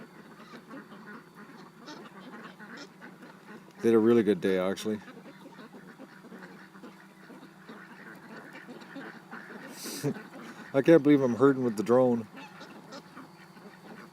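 Small ducks quack in two loud, rapid bursts as they return home to a yard herded by a drone, while a person talks softly throughout between the calls.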